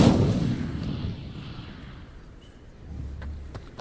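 Incendio fire spell cast in Hogwarts Legacy, a video game: a deep burst of flame and crackle that fades into a low rumbling tail with a few faint ticks.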